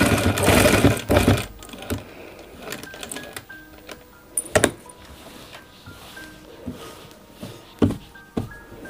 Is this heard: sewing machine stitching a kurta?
yes